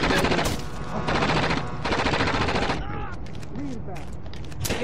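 Enemy heavy weapons fire in the video game Rainbow Six Vegas 2, loud bursts of rapid automatic gunfire breaking off in short gaps, followed by quieter scattered shots and electronic game sounds toward the end.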